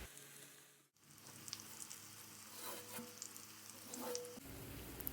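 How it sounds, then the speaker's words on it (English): Zucchini cooking in a pan, a faint soft sizzle with a brief dip near the start, continuing quietly and evenly with no talking. "After 2 to 3 minutes, add zucchini and cook another 2 to 3 minutes."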